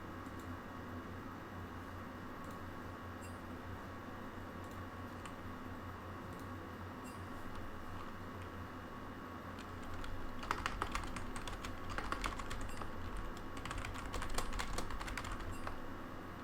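Keyboard typing from players in an esports playoff quarterfinal match, continuous faint clicking over steady background noise, growing louder and busier in the final few seconds.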